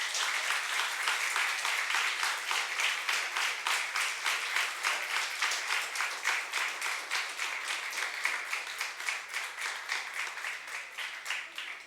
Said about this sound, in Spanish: ¿Por qué no les dan un aplauso a los papás?